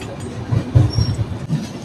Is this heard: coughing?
no